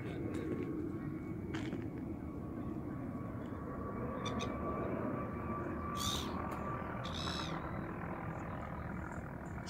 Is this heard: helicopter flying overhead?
yes